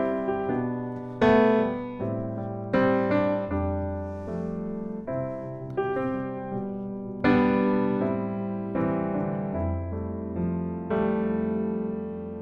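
Piano plays full, rich block chords with sustained harmonies, changing every second or so in a steady flowing rhythm, clear and close with no voices.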